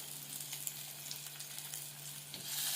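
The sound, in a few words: sautéing onions with curry leaves sizzling in pan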